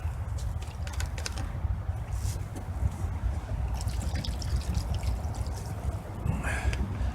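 Water trickles and pours into a pan of spicy jalapeños being sautéed on a stealth camping stove, a steady close liquid dribble with a faint low rumble underneath.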